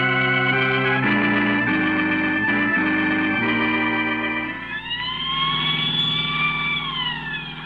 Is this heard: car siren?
yes